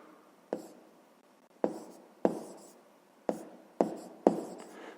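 Chalk or marker strokes on a classroom board during a fifth-grade math lesson: six sharp taps and scrapes spaced irregularly over a few seconds, close and fairly clear with no talking.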